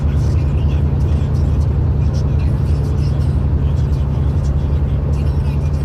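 A Ford EcoBoost pickup engine towing 6,000 lbs uphill on a highway, a steady loud low drone with road and wind noise throughout, under continuous talking.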